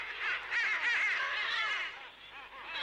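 Cartoon birds squawk and chatter in a busy, layered flurry of high quacking and honking calls, loud and continuous before easing slightly toward the end, with no voices.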